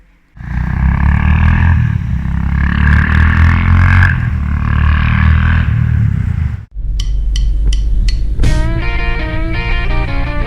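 A Yamaha XT 600 motorcycle engine runs with a loud, steady, low rumble during an oil-change service. It cuts out briefly just before the seventh second, then carries on alongside brighter tonal sounds.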